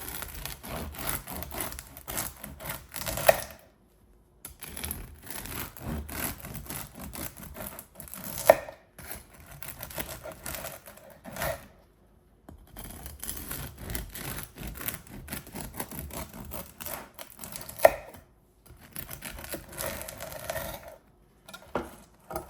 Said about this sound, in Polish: No i teraz ukroimy sobie, spróbujemy.